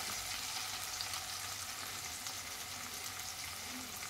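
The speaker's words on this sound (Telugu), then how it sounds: "మన కర్రీలో ఆనియన్స్ అయితే వేగిపోయినాయి" Onions frying in a pan for a chicken curry give a steady, even sizzle throughout, close and moderately loud, with no talking.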